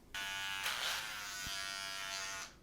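Electric hair clippers buzz steadily and close, the motor tone straining and shifting as it bogs down in thick hair, then cutting off.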